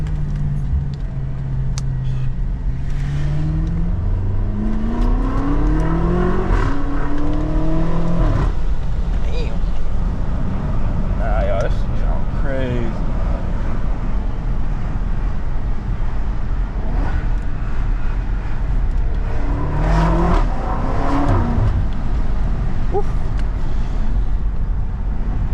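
A BMW X5M fitted with catless downpipes revs up, its engine note sweeping upward in several rising pulls over a steady low drone, with people talking nearby.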